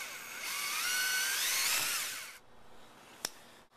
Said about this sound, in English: I've drilled a hole actually right through there